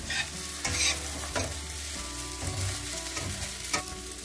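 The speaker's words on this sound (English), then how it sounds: "After 5 minutes, we have to stir it." Sabudana khichdi being stirred in a pan over a medium flame, with repeated scraping strokes and a soft sizzle running underneath, close and steady with no voices.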